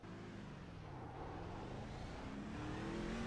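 NASCAR truck engine in the iRacing sim at IRP, a continuous faint engine drone with rising and falling pitch, no voices.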